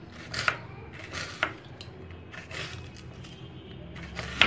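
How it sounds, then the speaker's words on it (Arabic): A knife slices onions on a board in a kitchen, with a handful of separate, fairly soft strikes and scrapes spaced a second or so apart over a quiet background. "انا هخرط البصل عندي هنا"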